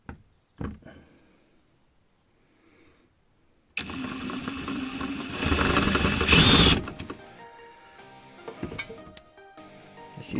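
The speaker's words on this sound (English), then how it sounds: "Use my impact driver to unscrew that" An impact driver whirs in a loud burst lasting a few seconds while unscrewing a light switch, followed by fainter clicks and handling noises; quiet taps come before it.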